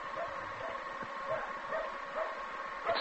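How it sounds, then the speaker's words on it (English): A small dog barks somewhere off in the distance along a country road at night, several faint, high yips coming in an uneven rhythm under a steady background hum. "It's a little dog barking."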